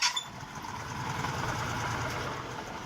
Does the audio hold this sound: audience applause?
no